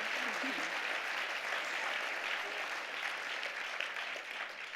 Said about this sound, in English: Come on guys, please give her a round of applause.